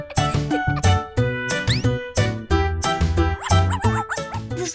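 A cartoon dog barks in a children's nursery-song setting, a quick run of bright, tonal, cheerful yaps over jingly music.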